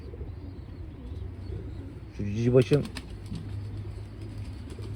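Breeding racing pigeons cooing in a loft, a short burst of coos under someone speaking close by, with faint bird sounds around.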